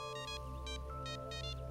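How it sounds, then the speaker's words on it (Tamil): A phone rings with a bright electronic ringtone, short repeating bursts of chiming tones over a steady low musical hum, fairly quiet and with no voices. "எனக்கு ஃபோன் வருது"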